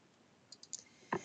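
Soft computer mouse clicks while choosing from a drop-down list in a database search field, several quick faint clicks spaced apart, then a slightly louder click near the end, in a quiet room.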